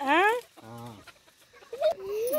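A family's pet chicken clucks in short rising calls near at hand, with bursts of cackling separated by quieter moments and someone talking alongside.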